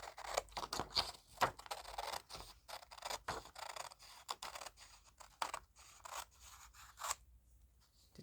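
Scissors make rough cuts through material for transparent craft pockets, giving close, irregular snips and scraping slides with short pauses between strokes, and nobody talks.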